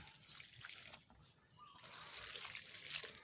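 Water is poured onto compost and moss in a potted fruit-tree planter, giving a soft trickling splash that fades briefly and then returns as a steadier, quiet pour.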